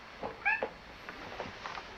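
A Maine Coon cat indoors gives a single short meow followed by a softer chirp, close by and moderately loud over quiet room background.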